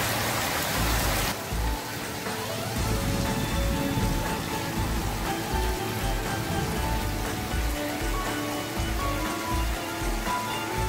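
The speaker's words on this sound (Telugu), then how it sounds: "వీటిని తెలంగాణ మరియు ఆంధ్రప్రదేశ్లో స్థానికంగా మామిడి జల్లులు అని అంటారు" Pre-monsoon mango showers in Telangana and Andhra Pradesh fall as a steady rain, a dense, continuous patter on surfaces that keeps a constant level throughout.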